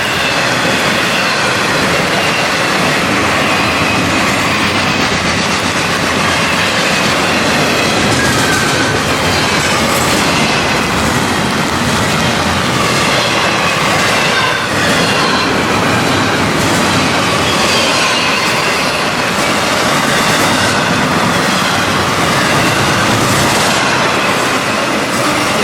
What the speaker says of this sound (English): The GEVO locomotives run on both diesel and LNG.